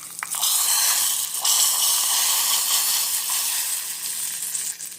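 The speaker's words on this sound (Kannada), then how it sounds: "ಇದಕ್ಕೆ ಒಗ್ಗರಣೆಯನ್ನು ಸೇರಿಸ್ಕೊಳ್ತಾ ಇದ್ದೀನಿ." Hot tempering poured into boiling horse gram sambar, a loud, sustained hissing sizzle that bursts in and holds steady for several seconds before easing, close by with no talk.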